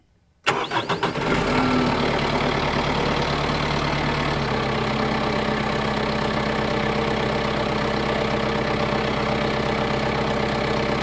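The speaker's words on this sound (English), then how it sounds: "So I'm gonna go ahead and start the tractor up" A tractor engine cranks and catches, then settles into a loud, steady diesel idle that runs on continuously up close, heard from the operator station.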